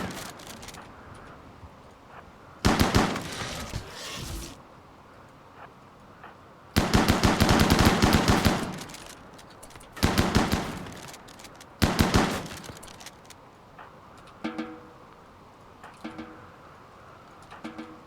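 Video game gunfire as colonists shoot a hive in a RimWorld-style colony, in several loud rapid bursts separated by quieter gaps, with fainter, lighter shots toward the end.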